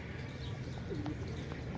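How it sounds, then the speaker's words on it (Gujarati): A pigeon gives a soft, low coo, a single faint call half-buried in steady outdoor background noise. "જોઈની બાજુમાં બીજું કબૂતર આવ્યું."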